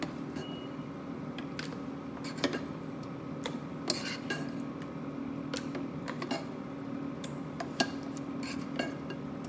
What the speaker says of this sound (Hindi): तो मैं इसको ब्लेंडर में डाल देती हूँ।